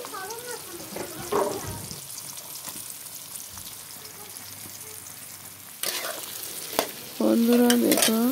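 Onions frying in hot oil in a wok (kadai) before chicken is added, crackling and sizzling with stirring clatter; the hiss swells loudly toward the end.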